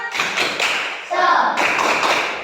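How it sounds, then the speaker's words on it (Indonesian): Schoolchildren in a classroom do a rhythmic spirit clap, a few sharp patterned bursts of hand claps and taps, close and lively, with children's voices mixed in. "Yuk, kita tepuk semangat dulu. Tepuk semangat."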